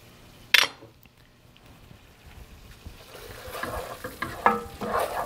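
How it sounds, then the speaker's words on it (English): Chicken pot pie filling is stirred in a pot: a sharp clank at the start, a quiet pause, then scraping and sloshing stirs with soft sizzling that grow busier and louder toward the end. "give this a stir."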